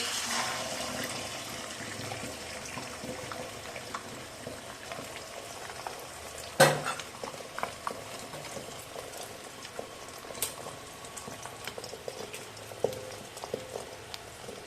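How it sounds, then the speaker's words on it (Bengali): Eggs beaten with chili powder, salt and onion fry in hot oil in a pan, giving a steady soft sizzling hiss with scattered crackles and one sharp clatter midway, no talking. "ডিম ভাজা হয়ে গেছে"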